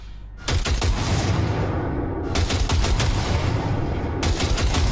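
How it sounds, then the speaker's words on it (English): Automatic gunfire in Cyberpunk 2077 rips out in loud, close bursts, with a sharp rattling volley after a brief pause and a second and third burst following in quick succession. "Fire a short burst into it."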